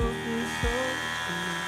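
A small electric clipper whirs steadily up close, its buzzing pitch dipping briefly as it presses into a horse's winter coat.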